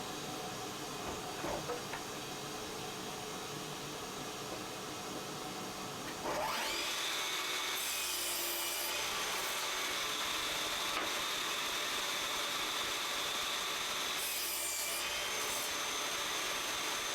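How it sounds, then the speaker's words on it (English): A table saw fitted with a mitre gauge cross-cuts wooden boards to length in a workshop, its steady motor whine rising into a loud, sustained cutting roar with the blade passing through the wood twice, and no talk. "now I'm just going to cross cut them down with the mitre gauge to their"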